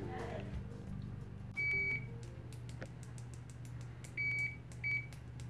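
Continuity beeps from an OWON OW16A budget multimeter tested with its stock leads: three short, steady electronic tones, one near the start and two close together toward the end, over a low steady hum.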